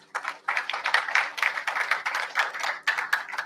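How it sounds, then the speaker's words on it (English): An audience at a national conference on Shilpa vidya claps in a steady, dense patter of many hands, moderately loud and continuous with small swells throughout, with no talking over it. "Give a clap, please."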